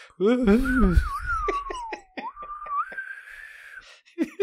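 A person whistles a wavering, breathy tune that slides up and down in pitch, with a few sharp breaths and mouth noises around it.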